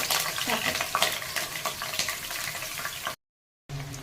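Onions and green chillies frying in a pan for Bengali mutton curry: a busy close sizzle with stirring scrapes for about three seconds, then a brief dropout before the sizzling resumes.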